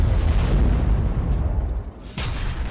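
Explosions from Russian bombing and missile strikes on Odesa give a heavy, rumbling boom that fills the whole moment. A brief dip is followed by another deep blast rolling back in.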